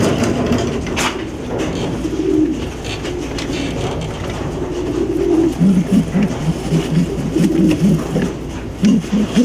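A young racing pigeon coos in low repeated throaty bursts while held for leg ringing, close and fairly loud, growing more rhythmic over several seconds.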